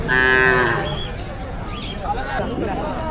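Cows at an agricultural exhibition in Konkan let out a loud, drawn-out moo at the start, then softer lowing follows amid the murmur of people talking nearby.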